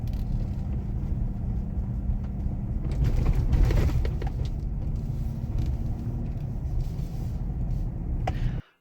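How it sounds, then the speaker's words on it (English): A 2014 Chevy Silverado 1500 accelerates at highway speed and its transmission shifts late. A steady low engine and road drone runs throughout and swells briefly midway, with no talk. "I just wanted to show you how long it takes to shift through these gears"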